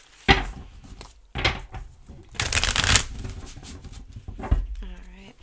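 Tarot cards being shuffled by hand come in several separate bursts of rapid riffling and slapping, close and crisp, with quiet pauses between them.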